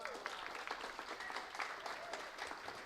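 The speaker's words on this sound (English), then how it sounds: "Amelia, a round of applause." Audience applause at a talk, a quiet, steady patter of many hands clapping at a distance, with faint voices mixed in underneath.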